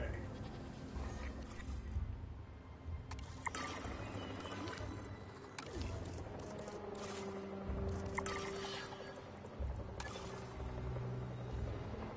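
Goats bleat at a raptor feeder in a Jurassic World video game, a steady run of bleats blended into a dense bed of game music and ambience.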